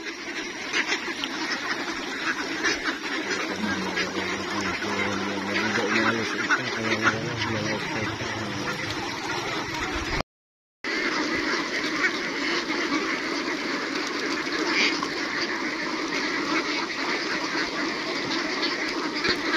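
Free-range ducks on a flooded farm quack in a dense, continuous chorus, loud and close, with a brief break partway through before the calling resumes.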